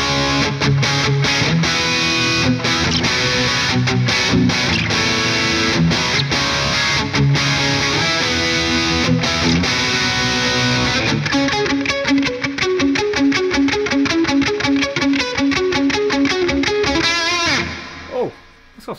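Electric guitar played with overdrive, a gritty distorted tone ringing out chords and faster riffs, ending with a fading sustain.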